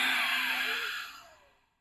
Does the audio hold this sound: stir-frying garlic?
no